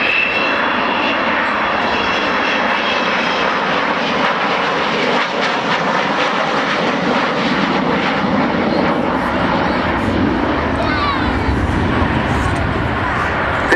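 An Avro Vulcan bomber roars past overhead at an airshow with its bomb doors closing, a loud sustained jet engine rumble that swells and shifts as it passes, with a voice talking over it.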